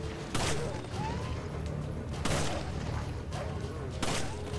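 Gunfire bursts from the co-op video game Resident Evil 5, with three loud broadband shots spaced about two seconds apart over a steady, busy game background.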